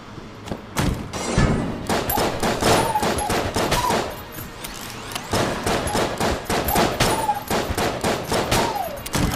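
Rapid gunfire in the bullet-hell game Enter the Gungeon, loud bursts of repeated sharp shots in quick volleys with thumping impacts, steady throughout with brief pauses.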